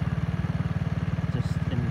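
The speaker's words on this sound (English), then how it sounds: "just enjoying riding my motorbike around" A motorbike engine putters in a fast, regular low throb while riding at night in Vietnam, heard close and continuous throughout.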